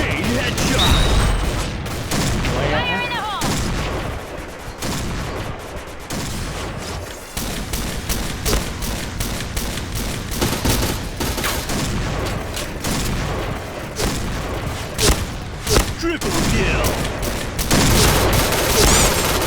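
Shotgun blasts in the online shooter Point Blank come in rapid, dense, continuous volleys mixed with game effects, while a player talks over the gunfire throughout.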